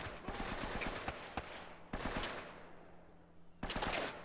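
Gunfire in the video game Uncharted: rapid bursts of automatic fire and several sharp single shots with echoing tails, loud and close, broken by brief lulls.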